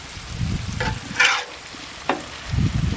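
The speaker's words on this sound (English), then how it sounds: "We'll mix them up, let them melt in there a little bit." Cheesesteak meat and cheese are mixed on a grill, steady sizzling and frying with a few sharp scraping strokes of a spatula over the hot surface, close by.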